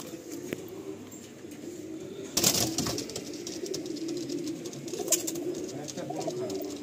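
Pigeons coo softly in a loft for black pigeons kept for sale, a low murmuring coo with a few wing flaps and light background patter.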